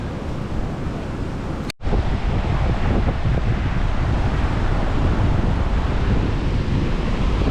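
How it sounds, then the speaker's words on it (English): Heavy surf roars continuously in a dense, loud wash at Tanah Lot, Bali, under gloomy stormy skies, with a brief dropout early on, mixed with wind buffeting the microphone. "Strong waves actually"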